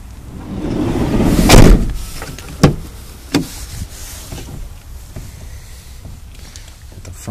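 A 2013 Chevrolet Express 3500 12-passenger van's right rear sliding door rolls along its track with a rushing rumble, then shuts with a solid clunk, followed by a lighter knock.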